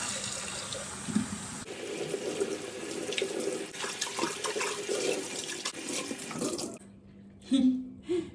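Lukewarm tap water runs into and rinses a yellowed, limescale-stained kettle, a close steady splashing stream that stops near the end, leaving brief clunks and a short voice sound.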